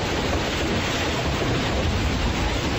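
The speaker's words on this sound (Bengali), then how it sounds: "এইবার শুরু হলো ভীষণ বেগে বৃষ্টি।" A heavy downpour sound effect in a Bengali suspense audio story, a loud, unbroken hissing roar of rain heard alone and evenly throughout.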